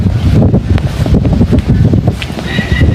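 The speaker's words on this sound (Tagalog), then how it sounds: "Kasi palakas ang hangin oh." Strong wind buffets the microphone on a large farm in the Philippines, a heavy, gusting low rumble that rolls in uneven surges the whole time.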